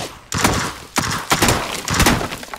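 Gunfire in PlayerUnknown's Battlegrounds: several sharp, loud shots in quick irregular bursts, close by, with no talking.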